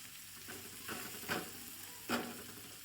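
Green garlic and green chili curry with garam masala is stirred in a pan, a soft steady sizzle broken by three or four scraping strokes of the spoon, with no talk.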